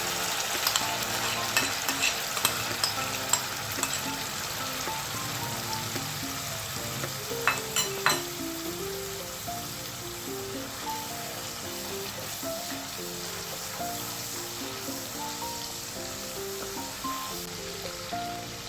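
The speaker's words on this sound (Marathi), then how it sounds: "तेलामध्ये आपण वाटून घेतलेले मिश्रण घालूया" Ground masala paste with onion fries in hot oil, giving a steady close sizzle with occasional sharp spatters and stirring scrapes throughout, no voices.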